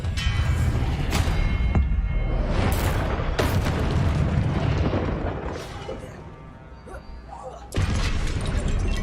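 Explosive Confringo spells bursting in Hogwarts Legacy combat, a run of loud booms and crashing blasts with sharp transient hits, dense low rumble throughout, dipping briefly before another heavy blast near the end.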